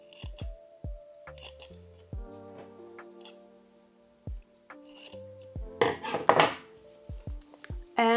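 Scissors clipping the corners of a sewn fabric bikini, a series of sharp metallic snips and clicks close up, irregularly spaced with a brief rustling of fabric in the middle.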